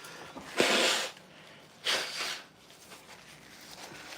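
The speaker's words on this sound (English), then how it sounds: "That's gonna make me blow my nose." Two short, breathy nasal bursts about a second apart, close and fairly loud, like someone blowing their nose into a tissue.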